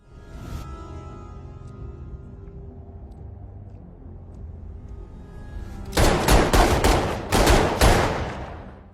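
Loud bursts of gunfire erupt in a film scene as a man fires and hits the wrong person, several rapid cracking shots in two clusters following a quiet stretch of low background ambience.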